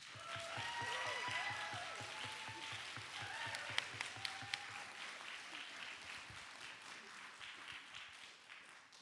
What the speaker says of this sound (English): And all those who want to clap for the negative team, clap now.